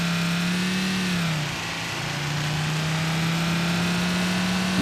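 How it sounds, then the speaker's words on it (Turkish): A damaged car engine, knocked loose from its mounts in a BeamNG.drive crash test, keeps running with a steady droning hum that dips briefly in pitch and then holds an even tone, loud and alone. "Motor yerinden çıkmış ama geri çalışıyor."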